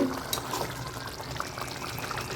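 A pan of thick tamarind chili sauce bubbles and sizzles steadily at close range as it reduces, a continuous wet simmering hiss with small pops throughout.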